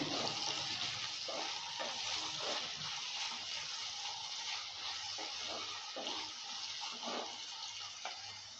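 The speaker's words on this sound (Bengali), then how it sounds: "সরষের তেলটা হিট হয়ে গেছে, এবার দিয়ে দিচ্ছি কাঁচা কলা। কাঁচা কলাটা দেওয়ার পর নেড়ে চেড়ে নিচ্ছে।" Raw banana pieces sizzling in hot mustard oil while being stirred, a steady hissing fry with occasional spatula scrapes, close and continuous without talk.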